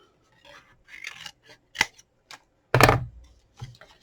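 Scissors snipping paper while trimming a handmade birthday gift box, a few sharp close cuts with one louder crunching snip near the end, no talk.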